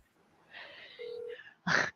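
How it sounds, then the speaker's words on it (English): Electronic telephone tones sound in a short sequence: a soft warbling tone, a steady low beep, then a louder, brighter chirp at the end, faint and without talk. "Oh, we got a phone call."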